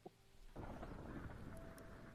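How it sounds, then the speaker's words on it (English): Rain and rolling thunder in a Minecraft-style video game realm, a faint steady downpour wash that starts abruptly after a brief quiet moment and continues evenly, with no talk. "This rain is very dramatic."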